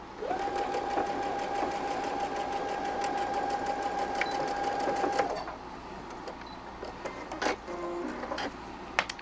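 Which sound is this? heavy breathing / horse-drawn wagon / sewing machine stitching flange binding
sewing machine stitching flange binding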